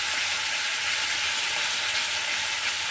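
Ground spices for a fried mashed eggplant dish sizzle steadily in a pan with a splash of water, a continuous close hiss with no breaks and no voices.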